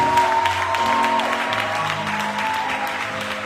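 A church congregation applauding during a service, steady clapping that carries on throughout with a sustained organ or keyboard tone underneath and voices faintly mixed in.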